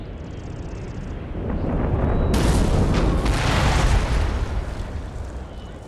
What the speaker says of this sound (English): Unleash the mortar shells!